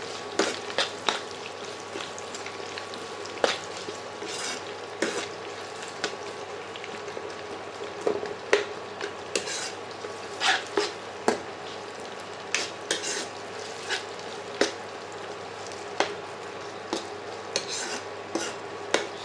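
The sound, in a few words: sambar onions and chillies frying and being stirred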